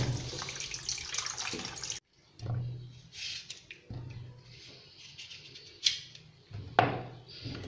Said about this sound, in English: I've diced my yam, so I'm washing my yam.